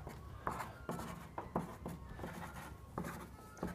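Pencil or pen writing musical notes onto a sheet of paper, a series of short scratchy strokes in an irregular rhythm, close and quiet with brief pauses between marks.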